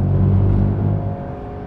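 A light, agile car on a race track accelerating out of a corner, a loud close engine rumble that fades slightly as it pulls away, with no talking.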